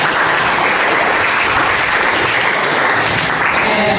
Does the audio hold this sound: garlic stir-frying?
no